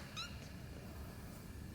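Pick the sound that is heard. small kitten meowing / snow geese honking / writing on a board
small kitten meowing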